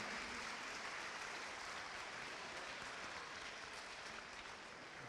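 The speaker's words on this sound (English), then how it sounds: "Ladies and gentlemen, a round of applause for our referees this evening" Steady crowd applause fills an indoor arena for the referees at a Cleveland Crunch 25th anniversary championship reunion game, broad and continuous at moderate distance without a break.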